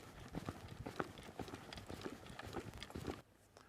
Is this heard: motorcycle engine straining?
no